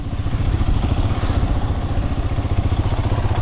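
2021 Royal Enfield Himalayan BS6 motorcycle ridden off road over rock, dirt and gravel: a loud, close, steady single-cylinder engine thump with rattling clatter, sustained throughout and without speech.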